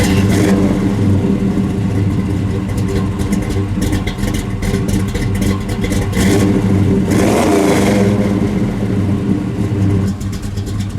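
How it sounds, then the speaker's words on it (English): 1973 Camaro Z28 engine cranking and firing up, settling into a loud, close, clattering idle with rough revving surges, no talk. "let's hear her start up"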